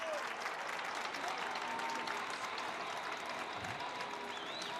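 A hockey arena crowd applauds and cheers at the end of a period in a Jacksonville Icemen home game, a steady wash of clapping heard from a distance.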